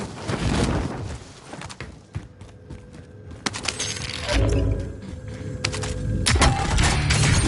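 Bursts of gunfire in Call of Duty Warzone: sharp cracks and rapid volleys come in clusters amid booms and clattering debris, loud and close, with a player's voice briefly heard between shots.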